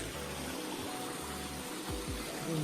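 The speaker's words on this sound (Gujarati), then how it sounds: "ઘઉંના મોઢામાંથી પાણી નીકળે." Water pours steadily from the Gaumukh cow's-mouth spout at Gaumukh Waterfall, a continuous close gushing rush with a few low thumps near the end.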